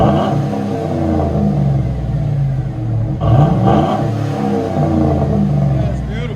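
A Chevy Silverado 5.3L V8 fitted with a Black Widow Race Venom exhaust rumbles at a steady idle and then revs up in a short surge near the middle, with people talking over the engine throughout.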